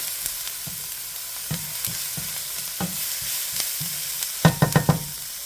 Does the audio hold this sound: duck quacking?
no